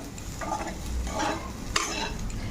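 Potatoes with spices sizzle steadily in a hot pan while a spoon scrapes and stirs them, with one sharp clack near the end.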